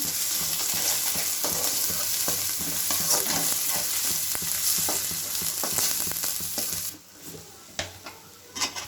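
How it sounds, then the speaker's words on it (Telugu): Ginger garlic paste frying in a pan for egg pulusu, with a close, lively sizzle and repeated utensil scrapes and taps of stirring, easing to quieter clatter near the end. "వేసుకొని కొంచెం లైట్గా పచ్చి వాసన పోయేంత వరకు ఫ్రై కానివ్వాలి అల్లం వెల్లుల్లి పేస్ట్"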